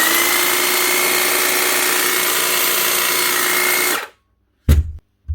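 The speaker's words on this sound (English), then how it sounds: "One Bosch corded Hedge trimmer." Bosch corded hedge trimmer, repaired and rewired, buzzes steadily and loudly for about four seconds, then cuts off abruptly, followed by a couple of short knocks.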